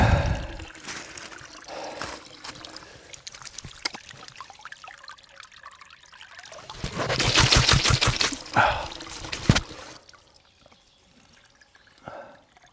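Ice cold water trickling and dripping outdoors in a Black Forest woodland during a bike ride, a close, uneven liquid patter with a louder splashing burst midway, then fading to quieter drips.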